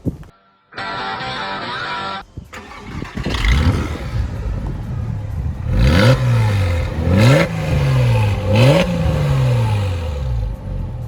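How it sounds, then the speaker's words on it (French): A warm Porsche Boxster cabriolet flat-six engine is blipped through several sharp revs, each climbing and falling back, loud and close, after a brief steady idle-like tone, with no voices. "Comme elle est chaude, on va faire quelques coups de gaz."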